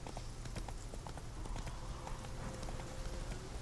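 Hooves clip-clop in a quick, steady gallop as a horse runs in The Witcher 3, the rhythmic beats close and continuous with faint game ambience behind.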